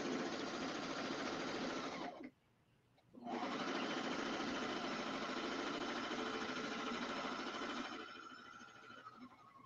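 A Brother Airflow serger stitches a short-length rolled hem on outdoor home-decor fabric, running with a steady close mechanical whir that cuts out briefly for about a second, then resumes and softens slightly toward the end.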